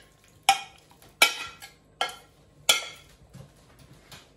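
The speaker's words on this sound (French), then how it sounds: "Je vais mélanger" A spoon scrapes and clinks through a bowl of Camargue rice salad with tuna and vegetables, five or six distinct close stirring strokes in an irregular rhythm, with no talking.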